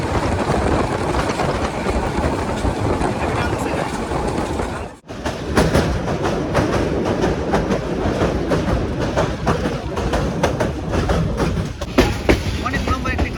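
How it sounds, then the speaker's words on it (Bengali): A Parabat Express passenger train hauled by a Hyundai Rotem 3000 series locomotive rumbles loudly and steadily with rhythmic clickety-clack of wheels over rail joints, a brief dip near the middle, heard close from on board. "এই যে এটা হচ্ছে আমাদের পারাবত এক্সপ্রেস ট্রেনের লোকোমোটিভ হুন্ডাই রোটারি কোম্পানির 3000 সিরিজের"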